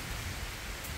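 Rain falls on a milpa cornfield, a dense, steady hiss of drops striking leaves and ground, continuous and fairly soft over the whole second, with no speech.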